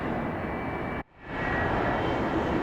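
An airliner coming in to land at Atlanta Hartsfield airport roars steadily in a broad engine rumble, briefly cut off by a short dip before the loud, even drone resumes.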